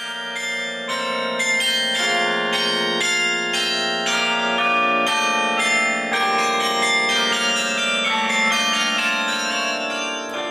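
A carillon of heavy bronze bells totalling about 16 tons, the largest near 3 tons, rings out a continuous melodic passage of overlapping struck tones with long sustained ringing, heard loud and close from inside the bell tower.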